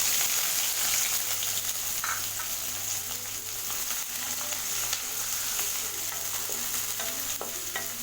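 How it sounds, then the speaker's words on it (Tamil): Chopped onion fries in oil with cinnamon, cloves and cardamom, making a continuous close sizzle with occasional stirring scrapes and clicks as the pieces are moved around the pan. "இது நல்லா எண்ணெயில் வறுத்துக்கலாம்"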